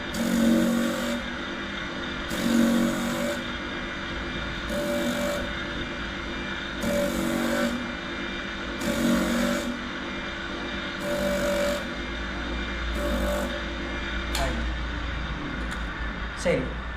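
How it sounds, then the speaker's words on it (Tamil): Repeated bursts of harsh grinding, roughly one every second or so, as a machine grinds sandal soles in a sandal-making workshop, cutting through a steady machine hum while a person talks in the background. "அடுத்து இடது கால் சாரி வலது காலையும் கிரைண்டிங் பண்ணுறோம்"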